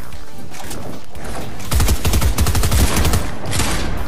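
A burst of rapid gunfire in Fortnite, several quick shots clustered in the middle of the clip, loud and sharp against quiet game ambience before and after.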